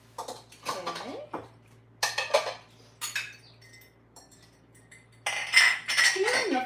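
Dishes being hand-washed and put away in a farmhouse bunkhouse kitchen: bursts of clinking plates, pots and cutlery in several separate clusters, close and fairly loud between quiet gaps.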